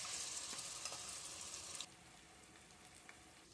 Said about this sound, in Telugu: ఆయిల్ హీట్ అయిన తర్వాత మనం క్రష్ చేసి పెట్టుకున్న ఈ చిన్న ఆనియన్స్ ఉన్నాయి కదండి